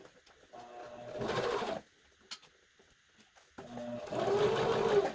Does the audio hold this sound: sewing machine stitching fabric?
yes